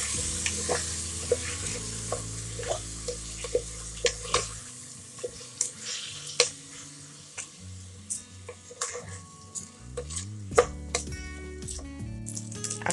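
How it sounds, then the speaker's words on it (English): Cumin-flavoured jeera rice is stirred in a pan, a spoon scraping and clicking in quick irregular strokes over a faint sizzle, close and fairly loud with no talk. "Just stir"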